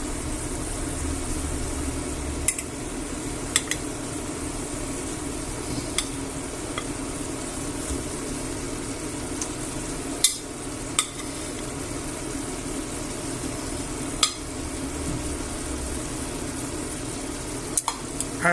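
Chicken pieces for Spanish garlic chicken, pollo al ajillo, sizzle and fry steadily in a pan, a constant close hiss broken by occasional sharp clicks and scrapes of stirring.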